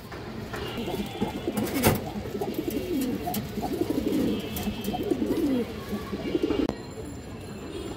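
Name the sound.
Muslodom pigeon cooing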